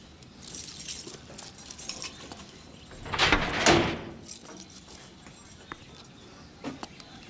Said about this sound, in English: Now open the door.